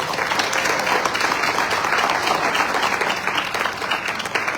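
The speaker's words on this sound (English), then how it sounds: "can we have a big round of applause?" A temple audience applauds graduates at a graduation celebration, with steady, dense clapping and no break in it across the whole stretch.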